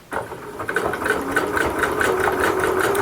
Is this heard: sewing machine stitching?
yes